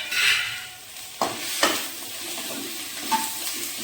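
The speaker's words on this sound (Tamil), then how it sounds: "நல்லா வதக்கிடுங்க." Drumstick leaves sautéing with tamarind, curry leaves and tomatoes in a pan for murunga keerai chutney: soft, close sizzling with a few sharp spoon scrapes and stirring knocks against the pan.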